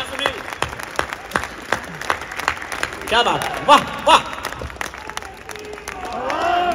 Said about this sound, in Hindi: तालियां भरपूर चाहिए मुझे अलवर